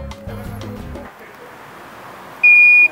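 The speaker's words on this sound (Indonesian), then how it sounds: "dia akan ada satu beep bagi tahu korang, it is wrong" A single short, high-pitched electronic warning beep rings out clearly after a moment of quiet, following a few soft clicking sounds, as a device signals a wrong plug connection.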